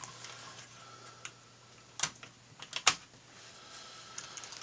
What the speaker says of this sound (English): use our X-Acto knife to lift away the plastic that's holding the faceplate in place